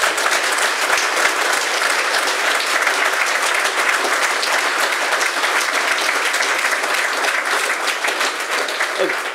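An audience claps loudly and continuously for several seconds during a book talk, dense sustained applause filling the room without letup.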